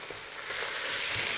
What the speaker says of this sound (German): Das werde ich jetzt da drin auch noch anbraten.